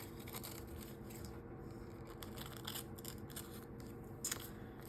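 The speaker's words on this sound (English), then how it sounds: "you just cut them thinner" Scissors trim thin lines for homemade label stamps, producing quiet, close snips and crisp cutting crunches repeated at an uneven pace over a soft background hum.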